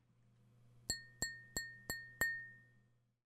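Glass vase in a flower shop tapped five times at an even pace, each a clear ringing clink that fades quickly, close and quiet over a low steady hum.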